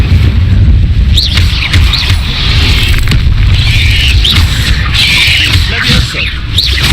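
Bursts of the Incendio fire spell in the Hogwarts Legacy video game, crackling whooshes and booms repeating several times amid dense, loud combat noise and squealing creature sounds, with spell incantations spoken between them.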